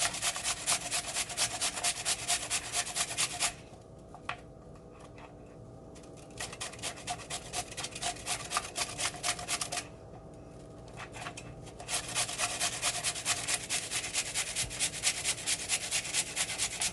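Carrots are grated by hand for a Nigerian salad, making a brisk, rhythmic rasping scrape at close range that stops briefly twice before resuming, with no talking.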